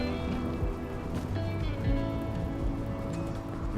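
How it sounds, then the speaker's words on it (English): Rain falling in the video game RimWorld, set off by a large spreading fire; a steady, soft patter of drops with a moderate hiss and occasional louder splashes, continuous throughout without voices. "There's so much fire that it started to rain."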